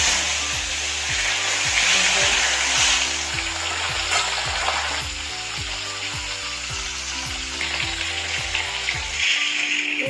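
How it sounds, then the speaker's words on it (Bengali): Large pieces of fish frying in oil in a wok, a loud continuous sizzle and crackle close by with no talk, easing slightly midway before swelling again. "এই দেখো কড়াই তেল দিয়ে দিয়েছি, এবারে মাছটা ভেজে নেব।"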